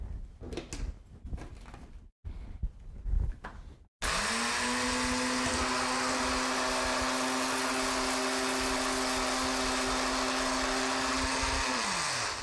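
A few seconds of handling clatter, then a loud, older electric blender roars to life grinding flaxseed, steady at close range until the motor starts winding down.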